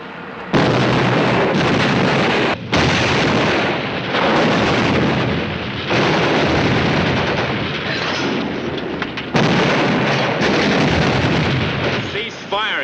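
Heavy tank cannon in a 1951 WWII battle scene fires high explosive shells, loud sustained booming blasts and rolling explosions across the whole stretch with brief gaps, dense and close, with shouted voices mixed into the din.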